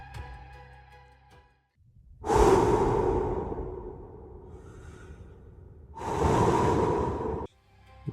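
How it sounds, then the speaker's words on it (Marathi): Heavy, drawn-out breaths come through a phone line as a horror sound effect, two long loud exhales separated by a quieter stretch, with no speech. "फक्त कोणीतरी जोरात श्वास घेत असल्याचा आवाज येत होता."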